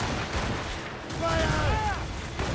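Musket volley fired on command during a battle in the Assassin's Creed Rogue video game: a dense, loud burst of overlapping gunfire with rumble, while voices shout over the fighting.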